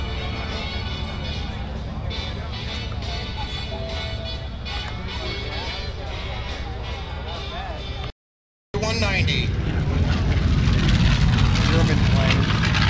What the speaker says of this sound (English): now at the P-38 as it's taxiing